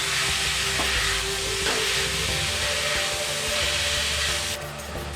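Grated radish fries in a pan, giving off a steady, loud hiss as its water cooks out, broadband and continuous with no voices.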